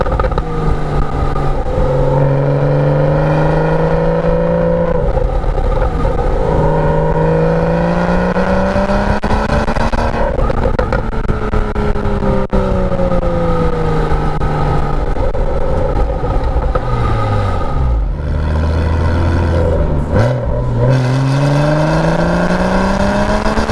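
A Porsche Boxster S 986 convertible engine hums steadily while driving, rising and falling through gear changes with a continuous loud drone and no voices.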